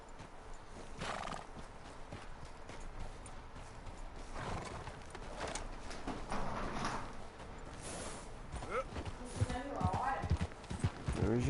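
Horse hooves clip-clop in Red Dead Redemption 2 on PS4, steady thudding steps with a whinny and game sounds, heard under ongoing talk throughout.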